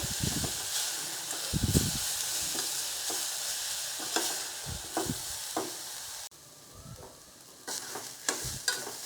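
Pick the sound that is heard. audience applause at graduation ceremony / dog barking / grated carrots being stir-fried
grated carrots being stir-fried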